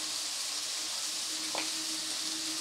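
Spices for egg tadka, with a little Kashmiri chili powder, sizzle steadily as they are sautéed and stirred in a pan, a continuous close frying hiss with one brief scrape partway through.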